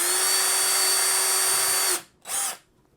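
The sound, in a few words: cordless drill drilling wood plank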